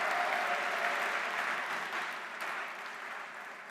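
Audience applause at a university welcome event, steady dense clapping that stays loud and fades only slightly toward the end, with no talk over it.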